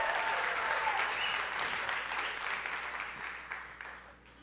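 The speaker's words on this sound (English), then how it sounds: "Come on, let's clap." An audience at the E3 2015 Oculus Rift conference breaks into sustained applause, a dense wash of clapping that slowly fades toward the end.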